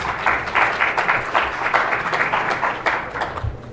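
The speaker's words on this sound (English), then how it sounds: "let's give one more round of applause to our panelists" An audience applauds panelists at a podcast panel during Liberty Forum 2018, with a steady wash of many hands clapping at moderate volume for several seconds.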